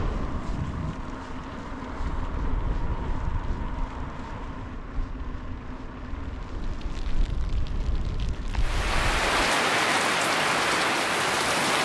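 Steady rain falls and patters on surfaces during a bicycle tour through Sweden, a dense even hiss across the whole stretch, growing louder and rougher near the end as if the downpour intensifies or wind hits the microphone.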